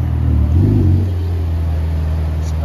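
A Ferrari Pista sports car passing at night on a Monaco street, its engine a loud low rumble that swells briefly as it goes by, then settles into a steady drone.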